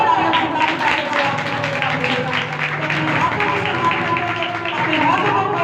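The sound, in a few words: congregation clapping loudly in praise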